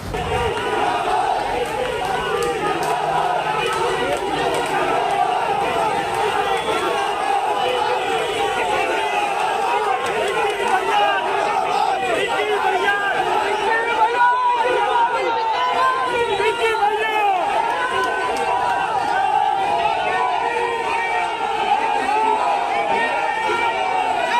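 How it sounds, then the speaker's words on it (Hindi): A large outdoor crowd at a political gathering, dense steady babble of many voices chattering and calling out at once, continuous and close throughout. "देखिए आप कैसे भीड़ आ गई।"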